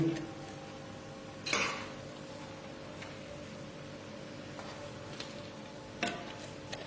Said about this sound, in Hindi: अब इसको हम डिश आउट करने लगे हैं